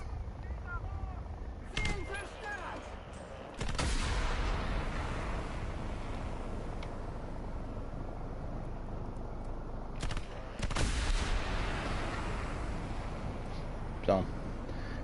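Aircraft 30 mm cannon fire in War Thunder, heard as two loud broadband bursts, one long and one shorter, over continuous engine and battle rumble with a voice talking over it.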